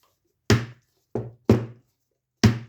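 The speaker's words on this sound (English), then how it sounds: "by hitting it not too hard, because you don't want to break the lid, is you just break that seal" A stuck resin bottle lid being tapped to break its seal: four separate dull knocks, close and moderately loud, irregularly spaced, with quiet between them and no talk.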